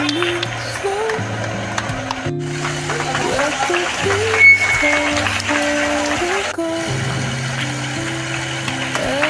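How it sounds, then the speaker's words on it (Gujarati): An audience claps at the annual prize-giving function of a girls' primary school in Jambusar, a dense, steady patter of applause running throughout with sustained musical tones layered underneath. "આજે તાળીઓનો ગણગણાટ રહેવો જોઈએ"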